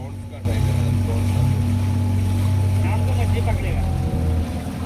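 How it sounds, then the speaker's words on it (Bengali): A Chinese-style fishing boat on a lake beside the Arabian Sea, its engine giving a steady low drone with water wash throughout, while someone talks over it. "আর এই বোটটা হইল গিয়া ফিশিং বোট যে বোট দিয়া মাছ শিকার করা হয়"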